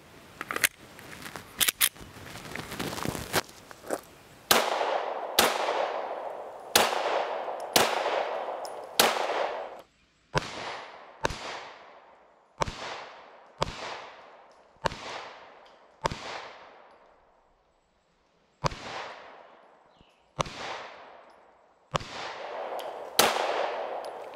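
Pistol shots from a Mossberg MC2C and an IWI Masada Slim fired at an outdoor range, a long series of sharp loud cracks with ringing decay, some in quick pairs and some spaced apart, with no talk.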